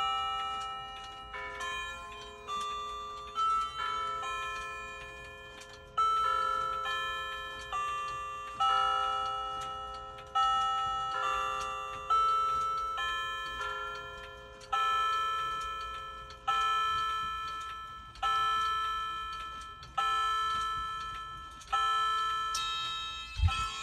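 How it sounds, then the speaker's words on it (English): A cuckoo clock chimes a long melodic sequence of bell-like tones struck in a steady repeating rhythm, each strike ringing and decaying, heard alone and fairly close. "There goes the cuckoo clock."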